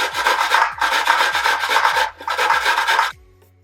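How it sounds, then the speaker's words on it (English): A coconut is grated by hand in close, rhythmic rasping strokes, about five in a row, each a dry scraping burst, ending in quiet. No voices are present. "So I'm just going to grate the coconut."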